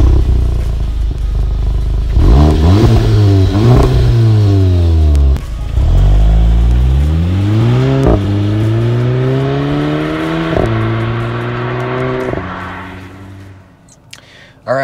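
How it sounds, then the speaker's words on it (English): Tuned Volkswagen Mk7 GTI engine pulling through several gears, each loud rising rev sweep cut by a quick shift, roughly five pulls in sequence before easing off near the end. "let's take the GTI for a quick drive here"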